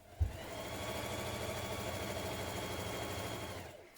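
A sewing machine runs a continuous stretch of stitching along the inside and outside leg seams of dungarees, a steady, fairly quiet mechanical whir from start to finish with no voices.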